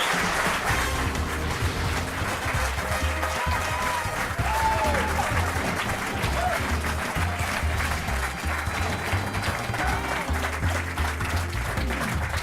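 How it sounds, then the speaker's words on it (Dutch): Studio audience applause greeting the presenter Roelof Lausma at the opening of the Frisian satirical show Neet op Freed, sustained, loud and dense throughout, with cheering voices and some music underneath. "Ja mensen, wat geweldig, wat een applaus."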